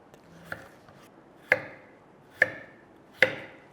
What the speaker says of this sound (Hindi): चलो जी, आलू कट गया।